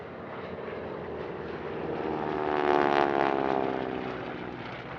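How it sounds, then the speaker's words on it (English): Three Corsair propeller fighters flying in formation at the Paris Villaroche airshow, a distant engine drone swelling into a louder pass overhead and then easing away. "enjoy, even briefly, the sight of 3 of Europe's 4 airworthy Corsairs in formation"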